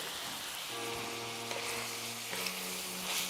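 Food for shepherd's pie frying in a pan, a steady close sizzle with a soft hum underneath and occasional light stirring clicks, no talking.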